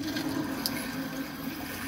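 Water drains steadily through an opened drain under a sink, a close, continuous rushing and gurgling flow with no talk.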